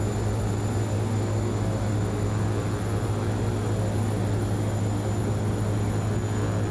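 Twin turboprop engines of a King Air C90B in the FSX flight simulator, throttling back, hold a loud, steady, droning roar with a constant low hum throughout.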